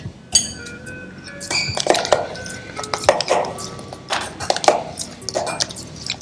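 A utensil stirs salmon, shrimp and tuna tartare with lime and a splash of olive oil in a bowl, making close, irregular clinks and scrapes against the bowl.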